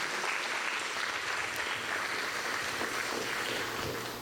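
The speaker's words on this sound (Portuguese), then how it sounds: "Aplauda o Senhor Jesus." Steady applause from a large crowd, a dense and continuous clapping that fills the whole stretch without pause.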